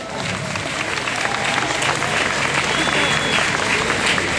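A crowd at a shopping centre ceremony in Brussels applauds steadily, a broad, continuous wash of clapping from many people with light crowd murmur underneath, holding at an even level throughout.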